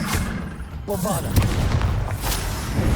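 Bombarda spell blast in the video game Hogwarts Legacy, a booming explosive burst with rumbling low-end impacts, heard amid ongoing combat noise and a character voice calling out.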